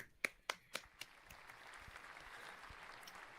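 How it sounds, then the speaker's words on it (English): A few sharp claps at the start of a streamer's clapping sound effect, then a soft, steady wash of recorded applause that lingers faintly to the end. "I have clapping."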